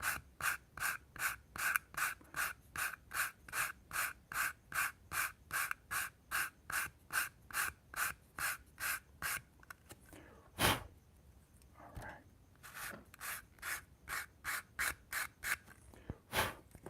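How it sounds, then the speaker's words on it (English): Hand sanding of a Corvair interior part, worked in one direction: close, loud rhythmic rasping strokes repeating steadily about three per second, pausing briefly midway and then resuming. "So just gonna sand in one direction for now."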